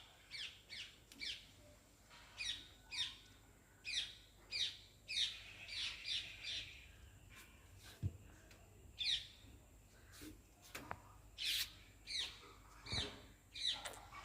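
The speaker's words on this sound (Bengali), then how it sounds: "শুনলেন পাখিদের কলরব।" Small birds on a rooftop on a winter day give a scattered series of short, high chirps and tweets at irregular intervals, fairly faint and distant against a quiet background.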